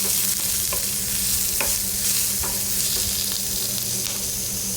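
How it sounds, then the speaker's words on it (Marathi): Onion frying in oil for a Maharashtrian mutton rassa while a spoon stirs it, a continuous close sizzle broken by several distinct scraping strokes against the pan, with no voices. "कांदा थोडासा भाजत आल्याच्या नंतर आपल्याला याच्यामध्ये किंचित तेल घालायचं आहे, म्हणजे कांदा अजून व्यवस्थित आपला भाजला जाईल।"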